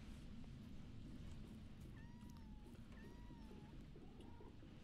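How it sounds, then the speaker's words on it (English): A cat stuck at a door meows two or three times, drawn-out and fairly faint, over a steady background hum with no talk. "Kitty's stuck at the door."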